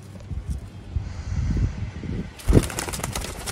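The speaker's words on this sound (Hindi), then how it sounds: "ये कबूतर हैं दोस्तों सियालकोटी, जिनको ज़माना जानता है" Sialkoti pigeons in a loft flap their wings close by, with soft fluttering and a sharp burst of wingbeats, over low rumbling coos and no voices.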